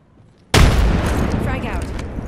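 A frag grenade explodes in Apex Legends, hitting abruptly after a quiet moment with a loud, booming blast that rolls into a long, rumbling, debris-filled tail.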